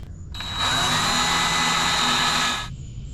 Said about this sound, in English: I'm going to drill several like 1/4 inch holes all the way across the width of it